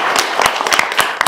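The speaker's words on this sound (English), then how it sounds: "You give her a round of applause." Audience applause fills a township board meeting during a police badge pinning ceremony, a dense, steady patter of many hands clapping close by for just over a second.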